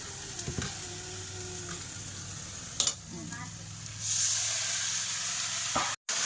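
Spices with salt, turmeric and chili powder sautéing in a hot oiled pan, a steady close sizzle broken by stirring scrapes and a sharper hissing surge partway through.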